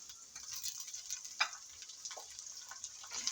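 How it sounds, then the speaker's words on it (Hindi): Tomatoes frying in hot oil with ginger and garlic in a home kitchen pan, giving a steady, soft bright sizzle with small crackles and one sharper pop. "टमाटरों को भी मैंने कर लिया है ऑयल में फ्राई।"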